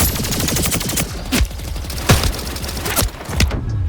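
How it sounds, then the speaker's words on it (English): Rapid bursts of charge pistol fire in a first-person shooter video game, a dense, loud stream of shots with a few sharper punctuating blasts, continuous with no talk. "It's a charge pistol!"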